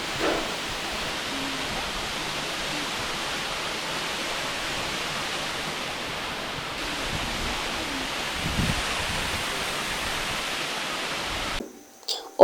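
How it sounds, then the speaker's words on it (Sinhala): Hunnasgiriya waterfall gives a steady, broad roar of falling water that runs unbroken and loud until it cuts off abruptly at the very end. "ඉතින් හරිම ලස්සන දියැලක්."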